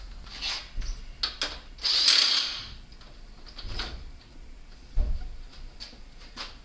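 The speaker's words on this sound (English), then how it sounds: "Now I know my impact gun gets it tight enough." An impact gun tightening the strut nut on a VW A3 during front strut replacement: a short, loud whirring burst near the middle, with scattered clicks and clunks of tool handling around it.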